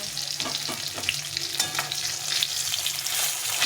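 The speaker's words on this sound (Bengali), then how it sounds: "এগুলো উঠিয়ে নিয়ে বাকি মাছগুলো ভেজে নেবো।" Fish frying in hot oil in a pan makes a steady, close sizzle with crackles and occasional utensil scrapes as the pieces are turned.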